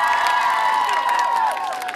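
A crowd at an outdoor event in support of Lithuania, held in Ukmergė, cheers, whistles and applauds a contest winner. The noise is loud and continuous.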